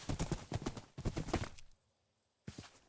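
Horse hooves clip-clopping in the game Homestead, a quick run of close, loud hoofbeats that stops briefly, then a couple more steps resume.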